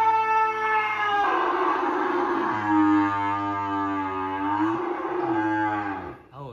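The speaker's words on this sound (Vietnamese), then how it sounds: "Nói chung bò con tách mẹ này thì nó phải la thôi nha anh chị." A calf separated from its mother bawls in one long, loud, wavering moo lasting several seconds, trailing off at the end, with no talking.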